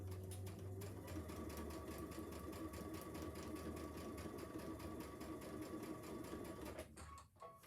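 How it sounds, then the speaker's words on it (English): A sewing machine runs a regular quarter-inch seam on placemat fabric, a steady, fast mechanical whir with even stitching pulses that carries on for several seconds before stopping abruptly near the end. "Take this to the sewing machine, make sure everything's lined up. And we're going to start sewing."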